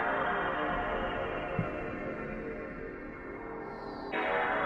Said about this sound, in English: so I just stole the PS2 startup sound.